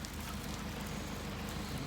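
Steady rain falls outdoors on a stormy night, a dense, even wash of droplets hitting surfaces that continues unbroken and fairly loud, with no voices.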